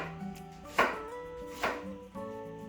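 A knife rough-chopping a red onion, two distinct chopping strikes about a second apart over quiet background music.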